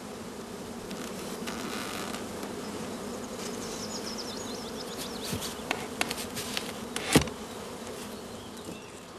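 Honey bees swarm around an opened beehive as the upper brood chamber is tilted for inspection, giving a dense, steady buzzing close by, with a few sharp knocks and clicks toward the end.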